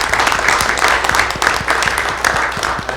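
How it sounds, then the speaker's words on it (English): A school board meeting audience gives a round of applause, steady dense clapping from a room full of people that holds for the whole stretch at a fairly loud level. "I give them a round of applause,"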